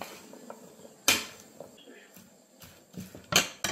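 Salad tossed with olive oil in a bowl, with a few clinks and scrapes of utensils against the dish, close and intermittent, the sharpest strikes near the end.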